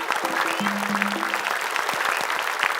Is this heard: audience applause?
yes